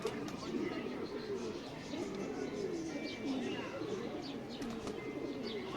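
Pigeons kept at a home coo softly and repeatedly on a winter morning, low murmuring calls continuing throughout, with faint chirps and distant background voices mixed in.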